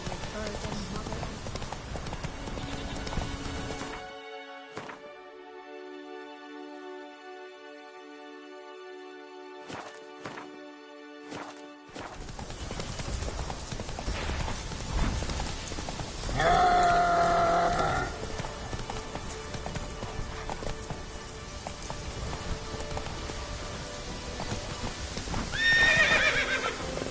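Horse hooves clip-clop steadily at a trot in the video game The Witcher 3, with the horse neighing and whinnying once or twice, mixed with game music and a voice speaking over it.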